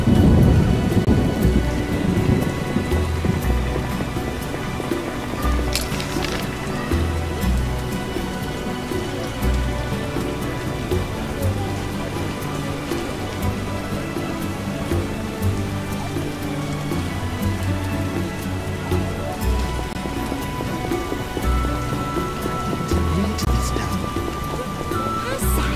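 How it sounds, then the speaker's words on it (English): Heavy downpour with rolling thunder in the fantasy video game The Witcher, loud continuous rain hiss with low rumbling booms throughout, plus occasional sharper cracks. "What a downpour."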